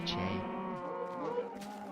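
A cow in the Minecraft video game gives a single drawn-out moo, clear and close, fading at the end.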